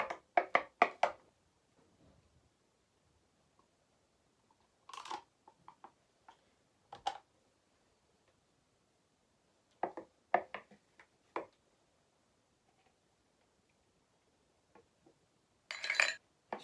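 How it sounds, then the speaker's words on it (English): Double cream being mixed in a bowl: scattered clinks and taps of a utensil against the bowl in short clusters, separated by long near-silent gaps. "I'm going to mix that in"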